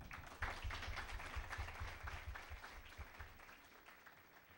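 An audience applauds at a university psychology week panel, a dense, even wash of clapping from a room full of people that holds steady and then slowly tapers off.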